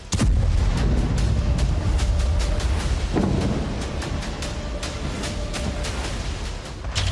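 Booming blasts and rumbling from Ukrainian drone strikes on Russian oil refineries, with a sharp crack near the start, another burst around three seconds in, and a continuous loud, roaring low rumble throughout.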